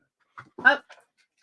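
A dog gives a few short whimpers and a breathy yelp at a house door, close and brief, with silence around it.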